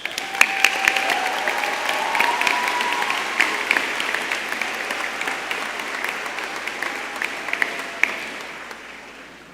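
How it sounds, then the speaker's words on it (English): An audience at a master's graduation ceremony gives sustained applause, with individual claps standing out now and then, fading gradually near the end. "let's acknowledge them with a round of applause"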